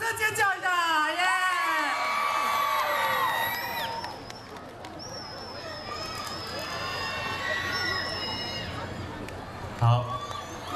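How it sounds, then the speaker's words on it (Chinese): A concert crowd at a stadium opening show cheers, whoops and screams loudly for a sustained stretch, with a bright rising whistle-like squeal over dense crowd noise and a brief thump near the end. "掌声尖叫一下"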